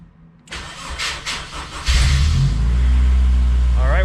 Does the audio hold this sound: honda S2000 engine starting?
yes